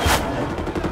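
Gunfire in Medal of Honor (2010) multiplayer, a loud, dense blast of shots with a booming onset that fills the short moment.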